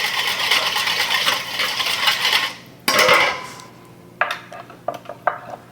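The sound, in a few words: whisking shrimp salad dressing in a bowl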